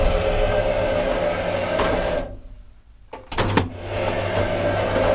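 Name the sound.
1963 Titan traction elevator motor running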